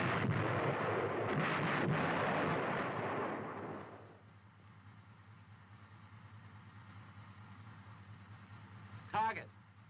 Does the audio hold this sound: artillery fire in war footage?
yes